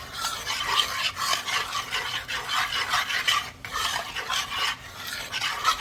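Homemade sculpture paste with glycerin being stirred in a container: close, rhythmic scraping and rubbing strokes repeating steadily, with no talk.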